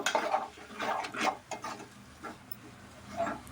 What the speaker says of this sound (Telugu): అలా మొత్తము కలిసేలాగా తిప్పుకోవాలి